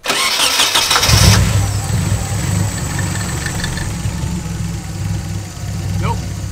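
A Jeep engine cranks with a rough grinding start, catches, then settles into a steady loud rumbling idle, heard up close.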